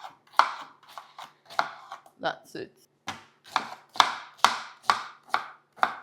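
A knife chops pineapple into cubes on a board, a steady run of sharp, close thuds about twice a second, with a short spoken remark partway through.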